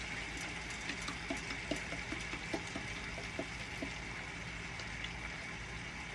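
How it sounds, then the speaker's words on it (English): Soy sauce splashed into a pan of sautéed cabbage with turkey sausage links and onions gives a steady, faint hiss and sizzle, with small ticks and pops scattered throughout. "I'm going to put a splash of soy sauce in there as well"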